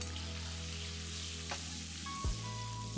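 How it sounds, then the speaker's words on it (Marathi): Garlic and curry leaves sizzle in hot oil as a tempering for Konkani-style tomato saar, with a pinch of asafoetida. The frying hiss is steady and close throughout, with a brief louder crackle near the end. "लसूण छान खमंग असा तळला गेला की त्याच्यामध्ये कढीपत्ता घालायचा आहे।"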